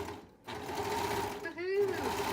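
A sewing machine stitching a hoodie in adult size, its motor running in two short steady whirring runs separated by a brief pause, close and moderately quiet, with a voice briefly heard.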